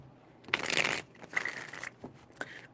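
Tarot cards are shuffled close to the microphone in a few brisk riffling bursts, each lasting under a second, with short pauses between them and no talking.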